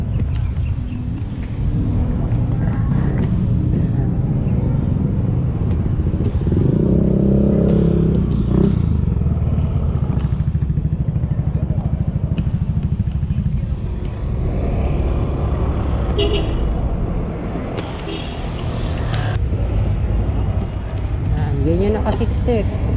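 Busy street traffic in Manila, crowded with motorcycles and cars, forms a steady loud rumble of engines passing close by, with someone talking over it throughout.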